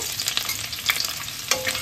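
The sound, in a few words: chopped garlic frying in chicken-frying oil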